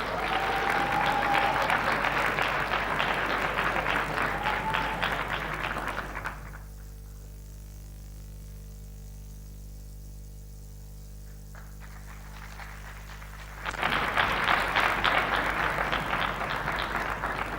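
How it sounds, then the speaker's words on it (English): Audience applause at a summit welcoming a speaker onstage, a broad sustained wash of clapping that drops away to near silence with a low hum, then returns just as full. "Please help me give a warm round of applause and a welcome to Professor Achille Mbembe"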